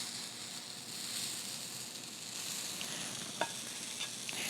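Buckwheat pancake batter sizzles on a hot griddle, a soft, steady hiss with a couple of faint pops near the end.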